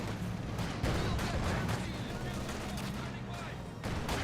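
MG42 machine gun fire in Company of Heroes 2 rattles as a continuous dense battle roar, sustained rapid fire blended with distant explosions, steady and moderately loud throughout.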